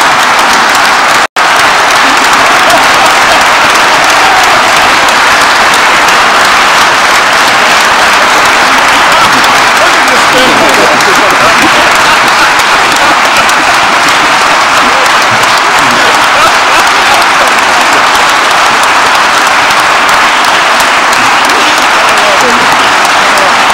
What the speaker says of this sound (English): You can give me an applause from that.